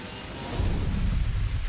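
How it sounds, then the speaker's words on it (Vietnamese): Heavy rain pours in an animated rescue-vehicle cartoon as a dense, steady hiss that swells into a deeper rumbling roar, loud and continuous with no talk. "trời mưa lớn quá"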